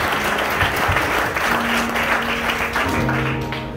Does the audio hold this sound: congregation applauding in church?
yes